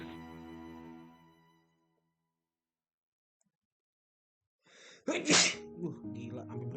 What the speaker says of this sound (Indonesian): Gila, sampai bersin gua.